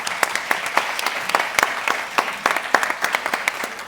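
Audience at an inaugural round-table panel on science communication for peace claps in a brisk, scattered burst of individual hand claps, steady and fairly close throughout, with no voices over it.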